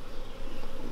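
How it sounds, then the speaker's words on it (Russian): Honey bees buzz around queen cages at an apiary, a close, loud, continuous droning hum that fills the whole moment. "Пчелы проходят туда и сюда."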